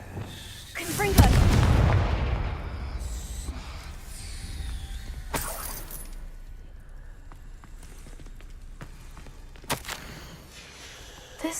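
A heavy booming blast from the Confringo fire spell in a Harry Potter video game, loud at first and decaying into rumble, followed by softer thuds and footsteps.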